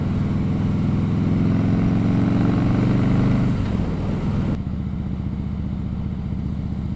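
Harley-Davidson Fat Boy with a Vance & Hines Pro Pipe exhaust idling nearby, a loud, steady, deep lumpy rumble that shifts slightly midway and continues alone.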